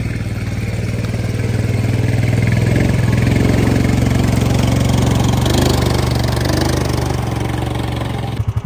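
A four-wheeler ATV engine runs loud and close as it drives through swampy backwoods, a steady rumbling drone with slight surges throughout.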